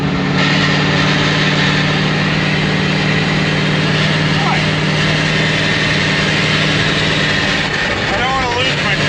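A wrecked Ford's engine runs steadily while the car drives down the road, a loud continuous rumble with a faint whine that holds throughout, with people talking over it.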